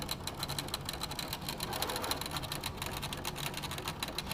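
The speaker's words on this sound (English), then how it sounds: "So that way I'm sewing here, not on the line." A sewing machine stitching fabric squares for a broken dish quilt block runs in a fast, even mechanical rattle from start to finish, close and steady with no voices.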